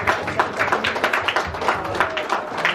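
Guests at a baby naming ceremony clap in a steady, fairly loud burst of applause, with voices murmuring underneath.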